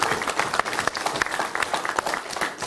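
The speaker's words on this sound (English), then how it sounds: "Give him a clap for that, come on." A conference audience claps enthusiastically in a short burst of dense, sustained applause, close and loud throughout.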